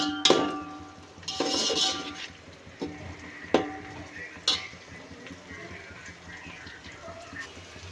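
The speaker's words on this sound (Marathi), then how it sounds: "इथे कांदा छान लाल होईपर्यंत भाजून घ्यायचं आहे" Sliced onions frying in a pan until golden, a soft sizzle broken by several sharp spatula knocks and scrapes against the metal, fairly quiet and close, with no talk.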